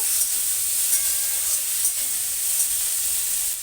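Chopped onion and vegetables fry lightly in a pan with a continuous, even sizzling hiss and a few faint stirring scrapes, close and steady throughout.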